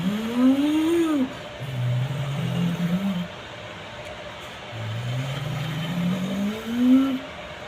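A human voice imitates a luxury car engine with several smooth, rising and falling revving sweeps, close and fairly loud, with brief pauses between passes.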